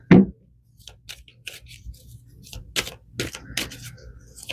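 Tarot cards being shuffled by hand, with a sharp initial riffle followed by scattered soft slaps, taps and flicks of cards in a quiet room.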